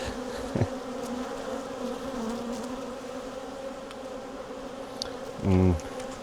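A dense swarm of honey bees hums steadily around open hive frames holding brood and nectar, a continuous close buzz with a brief louder burst near the end as a bee passes the microphone.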